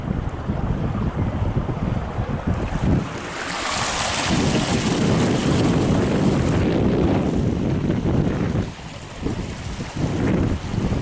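Rainwater from five inches of overnight rain rushes down a steep, rock-filled channel into a small pond. It makes a loud, continuous close-up roar with heavy wind buffeting and no talking.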